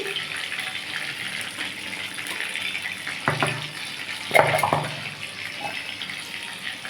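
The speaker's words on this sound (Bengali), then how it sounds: "চিংড়ি মাছটা আমি অফ ক্যামেরায় ভেজে নিয়েছি সেই তেলেই আমি একটু শুকনো লঙ্কা ফোড়ন দিয়েছি" Dried red chillies temper in oil left over from frying prawns, giving a steady hissing sizzle close by, with a couple of sharper crackling spurts partway through and no voices.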